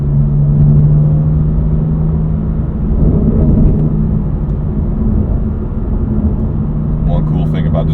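BMW M4 GTS with full titanium exhaust cruising with windows down, a loud low engine drone and rumble throughout, heard under someone talking.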